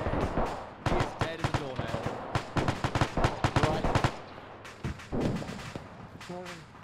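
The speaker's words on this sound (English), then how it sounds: "MG fire is incredibly lethal" Machine gun fire in the Arma 3 military game, set in snow with German forces: sharp, close bursts of rapid shots in rhythmic clusters, with short gaps and voices mixed in.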